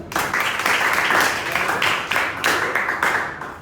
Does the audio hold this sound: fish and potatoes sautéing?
no